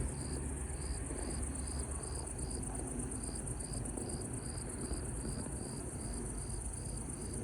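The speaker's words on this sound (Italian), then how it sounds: "Sì, ci sono i grilli" Crickets chirping steadily in the evening outdoors, a fast, even pulsing trill that continues throughout over a constant hiss of background noise, with no talk.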